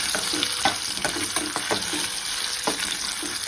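Potatoes for dum aloo fry in oil in a kadhai, a steady dense sizzle running throughout with a few soft clinks of stirring, close and fairly loud.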